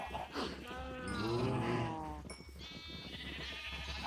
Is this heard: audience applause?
no